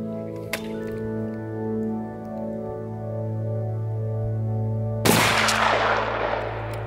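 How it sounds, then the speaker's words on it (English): One loud, close shotgun blast fired through a full choke at a target 60 meters away, a sharp crack followed by a long decaying roar over a steady background hum. "here we are, the last shot we're gonna take, and it's full choke"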